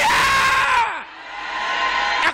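A church congregation lets out loud, sustained shouts and cries of joy during worship, a dense crowd roar that dips briefly and then swells again.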